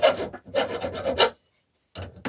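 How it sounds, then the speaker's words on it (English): A hand file scrapes burrs off metal in two quick bursts of rasping strokes, close and crisp, separated by a short silence. "I'm going to get my big file, or whatever, sandpaper"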